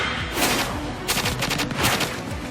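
Anime gunfire in Assassination Classroom: rapid bursts of automatic shots crackle in clustered volleys, loud and close, with a faint voice mixed under them.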